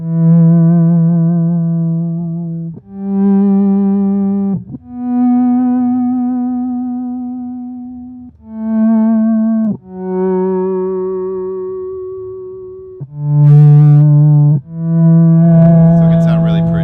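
An Electro Harmonix synth pedal producing fuzz distortion: a series of sustained, buzzy synthesized tones played one after another at different pitches, each note holding for a second or two before changing, loud and up close.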